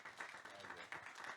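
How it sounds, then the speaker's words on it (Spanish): An audience applauds for a speaker at a talk event, a short, steady patter of clapping from a modest crowd. "Pedimos un aplauso para él, si puede ser."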